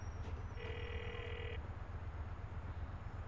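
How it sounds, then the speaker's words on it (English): A phone rings while a car service is called in Grand Theft Auto IV, a single short electronic ring tone about a second long, heard faintly over a low steady background hum. "Let's call... Do I call Roman for a cab?"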